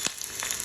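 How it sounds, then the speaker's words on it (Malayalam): Curry leaves drop into hot oil already holding mustard seeds and onion, giving a brief, bright sizzle burst followed by steady frying crackle close by. "കറിവേപ്പില അങ്ങോട്ട് ഇടാം."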